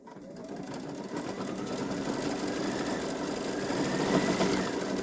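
Babylock Solaris Vision embroidery machine stitching lettering onto a boy's t-shirt, a fast, steady mechanical whir with rapid needle chatter running continuously and close up.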